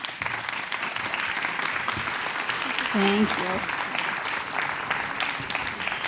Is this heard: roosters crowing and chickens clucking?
no